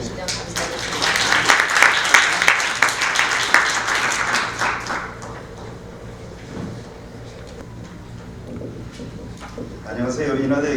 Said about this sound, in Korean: 모두 박수로 맞이해 주시면 감사하겠습니다.